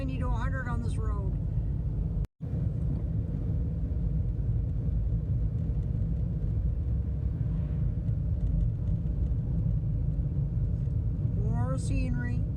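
A car drives steadily along a park road with a constant low engine and road rumble, broken briefly by a dropout, while voices talk over it.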